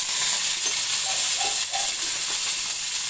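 Steady sizzling and crackling of curry leaves hitting hot oil, a dense frying hiss throughout with a few brief sharper pops.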